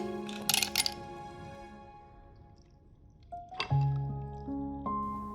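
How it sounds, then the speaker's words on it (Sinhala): Ice cubes dropped into a glass for a hibiscus mojito, with a quick cluster of sharp clinks early on and another knock and rattle a few seconds later, close and fairly quiet. "ඊළඟට අයිස් කැට ටිකකුත් එකතු කරගන්නවා."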